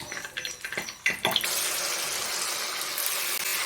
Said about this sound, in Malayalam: വെളിച്ചെണ്ണ തിളച്ചോന്ന് നോക്കാനായിട്ട് നമുക്കൊരു ശകലം മാവൊന്ന് ഇട്ട് കൊടുക്കാം.